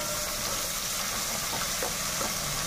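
Chopped garlic fries in a pan for chilli chicken, producing a continuous loud, even sizzle and hiss with no talking.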